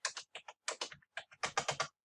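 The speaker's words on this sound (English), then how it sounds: "by just typing it in on a keypad" Quick bursts of key presses on a keypad, tapped in short irregular clusters with brief pauses between, close and fairly quiet.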